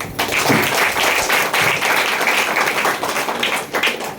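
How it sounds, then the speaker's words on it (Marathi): Loud, close audience applause at a Diwali morning music concert, a dense burst of many hands clapping that holds steady for several seconds. "सो सगळ्यांसाठी टाळ्या होऊन जाऊ दे."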